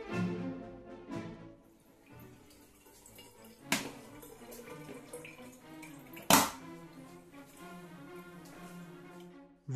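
Wehrmacht-style leather boots being rinsed with water and a brush, giving irregular splashes, drips and wet slaps with a few sharp louder hits, close by and with no talking.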